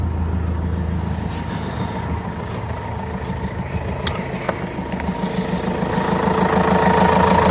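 A car engine idles steadily nearby with a low, even rumble, growing slightly louder toward the end, with a few faint clicks.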